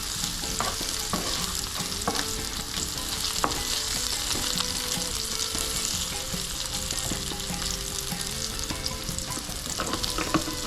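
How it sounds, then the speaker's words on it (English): Garlic, ginger and onion stir-frying in hot oil over medium heat for a turmeric squid stir fry, a dense, continuous sizzle punctuated by scrapes and clacks of stirring, with no voices. "Give it a quick stir, then add the ginger and onion."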